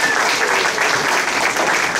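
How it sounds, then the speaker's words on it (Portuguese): A church audience gives a continuous, dense round of applause for a pastor and author being invited to the front, loud and even throughout the short stretch. "Uma salva de palmas"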